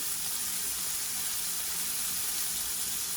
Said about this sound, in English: I am putting them in my pan that is sizzling, burning hot.